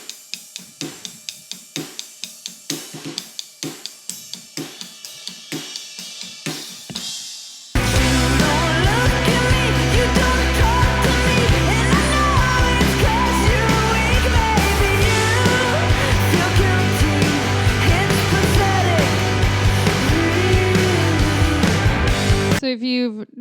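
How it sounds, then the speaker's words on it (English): Drum kit groove that opens with sparse, punchy hits, then bursts into a loud, sustained wash of doubled crashes struck on the ride cymbal over driving kick and snare, played alone without talking. "we started crashing on the ride cymbal"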